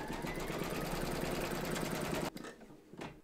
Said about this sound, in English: We're now going to stitch round number four, and that's going to stitch the outline of the buttonhole.